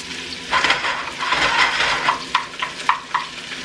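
Beef sizzles in a pan of hot oil, a steady close crackle and hiss broken by a few sharper pops and stirring scrapes, with no voices over it.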